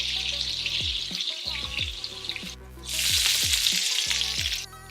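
Thinly sliced chicken breast frying in a buttered pan, a bright steady sizzle that swells louder partway through, close up with background music and no speech.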